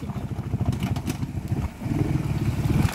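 A Kawasaki Brute Force 750 ATV engine turns over and catches during an off-road water outing, settling into a loud, steady, low rumbling idle that swells after a brief dip near the end.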